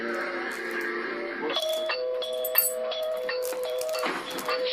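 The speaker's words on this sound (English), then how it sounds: "the doorbell starts ringing over and over and over again" A doorbell chimes again and again in quick succession, bright ringing tones overlapping with faint rattling underneath.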